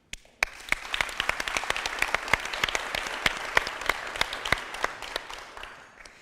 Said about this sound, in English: A big applause to RTC Denmark.